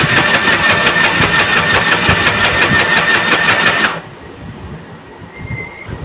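A foot-pedal sewing machine runs fast for about four seconds, its needle making a rapid, even train of mechanical pulses up close, then stops abruptly and leaves a quiet room.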